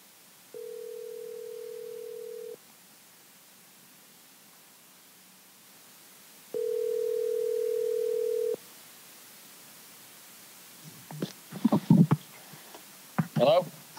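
Two long, steady electronic ringback tones on an outgoing phone call, separated by a pause, sound clean and even, followed by a muffled rustle and a voice answering at the end.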